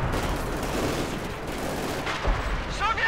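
A light artillery barrage in Company of Heroes 2 rumbles as a dense wash of overlapping booms and gunfire, loud and continuous for a few seconds, with game effects rising near the end.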